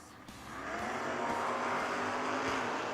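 Drag race cars, a Camaro and a Duster, launch at a footbrake drag racing event, engines roaring up into a loud, sustained rising blast.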